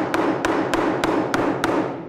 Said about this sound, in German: jetzt willst du den Nagel da reinhauen.